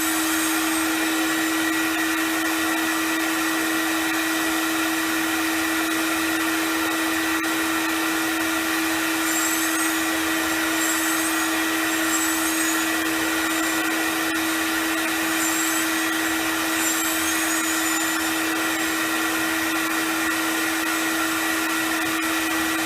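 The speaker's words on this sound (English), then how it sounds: "So turn on the vacuum and you'll see this start to pull." A vacuum cleaner fitted with a turbo brush runs on carpet, its steady motor whine holding a strong constant tone alongside a broad airy roar, with faint brief chirps appearing partway through.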